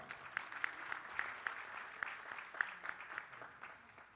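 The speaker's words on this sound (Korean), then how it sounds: "큰 박수 다시 한번 보내주시기 바랍니다" Audience applause for the Seoul Wind Rotary Club orchestra at a Rotary District 3650 conference opening at the Grand Hyatt Seoul: a steady, fairly distant wash of many hands clapping, with a few sharper claps standing out.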